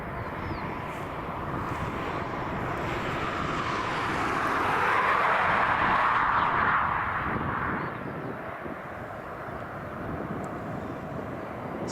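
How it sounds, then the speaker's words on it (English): An Aer Lingus Airbus A330, fifteen years old, taxiing onto the runway at Dublin Airport gives off a steady, broad engine roar that swells in the middle before settling back, with no voices over it. "This Airbus A330 just taxiing onto the runway here."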